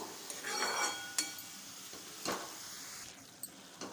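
Rock salt and spices being stirred into radish in a pan, with scraping and clinking strokes of a utensil over a low hiss, several distinct clatters spread across a few seconds.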